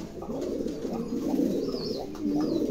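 Several exhibition homer pigeons, including Andalusians, coo in low, throaty rolling calls, close by and overlapping steadily throughout.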